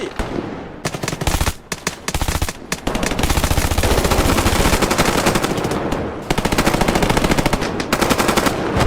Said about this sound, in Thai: A3M1 เป็นปืนประเภทไรเฟิลจู่โจมสัญชาติออสเตรเลียน